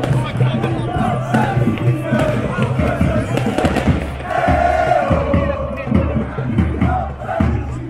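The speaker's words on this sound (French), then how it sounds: "Ici il y a eu plusieurs feux d'artifice" Fireworks bang and crackle over a loud stadium crowd entering Stade Pierre-Mauroy, chanting and roaring throughout.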